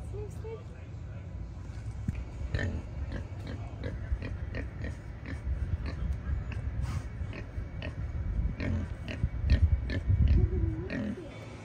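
A pig grunts and snorts in short bursts amid a busy outdoor crowd, with people talking nearby and louder snuffling toward the end.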